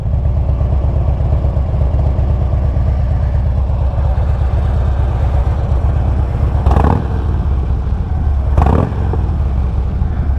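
A 2009 Harley-Davidson Street Glide with 4.5-inch Shark Road slip-on exhausts on both sides rumbles loudly and steadily at idle, then gives two short, sharp rev blips near the end.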